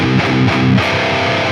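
An electric guitar plays through an amp with its EQ switched off, giving a few tight, bass-heavy distorted palm-muted chugs followed by a ringing sustained chord, loud and close with no talking.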